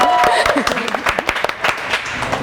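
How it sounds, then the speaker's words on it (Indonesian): Audience applause at a community art talk in Malang with graffiti groups, a short run of quick, dense claps from a small crowd with voices mixed in. "mantap, tepuk tangan dong"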